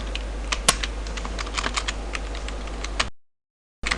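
Fast, uneven clicking of keys on a computer keyboard, close and fairly clear, in a steady run of taps that cuts off briefly near the end before resuming.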